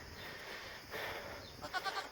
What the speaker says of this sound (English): Here's our newest goat, Samson.